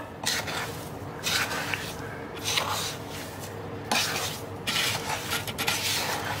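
Watermelon pieces and sugar stirred together in a pot for jam: steady, wet scraping and rubbing strokes close by, moderately loud and continuous with slight rhythmic swells, no voices.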